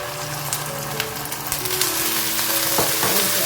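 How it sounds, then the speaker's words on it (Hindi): Garlic ginger paste sizzles and crackles in hot oil as it is stirred in a pan for Lahori-style paya, a loud, bright frying hiss with occasional scraping. "अब इस पॉइंट पर हम इसमें लहसुन अदरक का पेस्ट डाल देंगे।"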